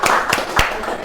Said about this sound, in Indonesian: kita beri tepuk tangan untuk Yosef